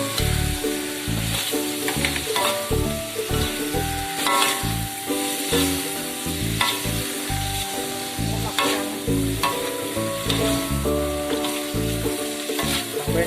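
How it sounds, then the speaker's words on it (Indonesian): Water hyacinth stems frying in a pan for krebek, stirred continuously with a utensil, producing a loud, close sizzle broken by repeated scraping stirs, with no talking. "Aduk-aduk terus guys, jangan biar aja guys, aduk terus."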